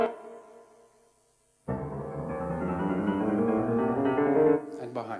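Synthetic musical echo pulse from in front of a radar, Doppler-shifted in pitch: a sustained, close tone with a rich stack of harmonics that enters after a quiet pause and holds steady, then drops off near the end.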